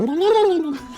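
A person's voice imitates a turkey gobble, a brief warbling rise-and-fall call lasting about a second.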